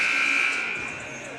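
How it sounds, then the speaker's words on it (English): At a high school volleyball match, an arena buzzer blares loudly in a steady electronic tone for about half a second before fading into crowd and gym noise. "So the buzzer sounds"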